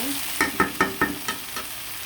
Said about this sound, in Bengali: আমি ভালো করে কষিয়ে নেব